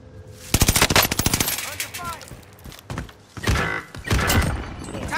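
Rapid automatic gunfire in Call of Duty: Modern Warfare, a close, loud burst aimed at the player followed by further bursts and impacts, with a voice shouting over the shooting.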